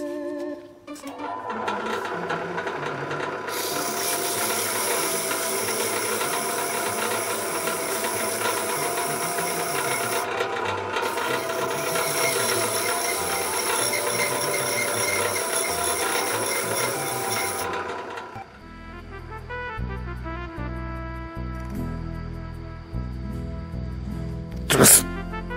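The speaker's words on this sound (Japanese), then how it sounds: "こちらの布やすりで先端を少々細めてやりたい" A long stretch of steady, harsh rasping abrasion, loud and close, as cloth sandpaper thins the tip of a wooden disposable chopstick held in a drill chuck, stops abruptly and gives way to a quieter tonal background with a final click.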